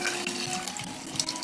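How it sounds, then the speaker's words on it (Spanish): Water poured steadily from a tap or jug into a pot of nopales and chickpea stew, a continuous close splashing trickle with no talk. "Le voy a poner una poquita más de agua."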